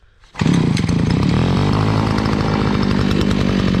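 After a brief quiet moment, a petrol grass trimmer engine starts abruptly and keeps running at a loud, steady, raspy idle right up close.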